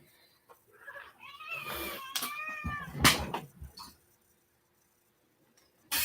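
A house cat meows and caterwauls in a drawn-out, wavering cry that rises and falls near the listener, then goes quiet before a short burst of other noise at the end.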